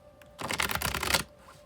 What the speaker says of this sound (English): Now I'll shuffle till it feels like it's ready